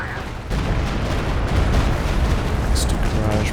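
Stuka dive bomber strikes hitting in a Company of Heroes 2 2v2 match: a sudden loud blast opens into a long, dense roar of explosions and battle noise, with a voice talking over it.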